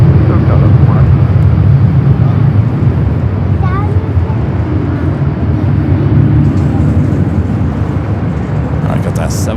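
An airliner takes off on runway 24 left at Los Angeles International Airport, a steady, loud low-pitched engine roar filling the whole stretch, with faint radio-style voices heard over it.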